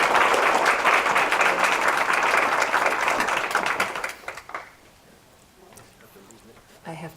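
An audience in a lecture hall bursts into sustained, dense applause that fades out after about four seconds, followed by quiet room noise and a short burst of talk at the end.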